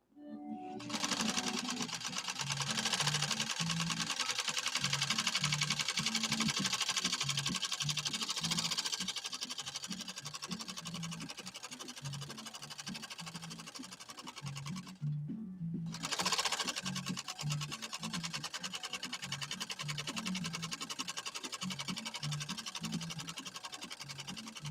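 A PFAFF 130-6 zigzag sewing machine fitted with an embroidery kit stitches in a loud, steady, rapid drone, breaking off for a moment midway before running on at the same pace.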